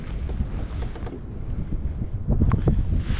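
Wind buffets the microphone on Lake Erie during kayak fishing for smallmouth bass, a steady low rumbling gust that swells louder near the end, with faint water and boat sounds and no talk.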